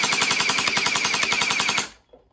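A brand-new gel blaster toy gun fires a rapid full-auto burst of about twenty sharp, evenly spaced shots over nearly two seconds, loud and close, then stops abruptly into near silence.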